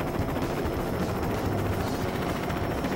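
A helicopter flying in the video game Lego City Undercover gives a steady, dense rotor and engine roar that holds at constant loudness throughout, with no talk over it.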